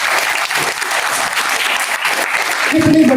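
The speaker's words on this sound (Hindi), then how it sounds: "उसके लिए आपको जोरदार ताली मारनी चाहिए" An audience breaks into loud, sustained applause, a dense wash of many hands clapping together, with a voice starting to speak as the clapping continues at the end.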